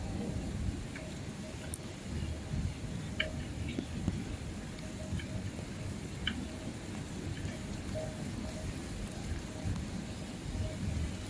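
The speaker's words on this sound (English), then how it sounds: "It's heavy rain." Heavy rain falls outdoors during a typhoon, a steady dense hiss with scattered sharper drips and taps throughout, no talk.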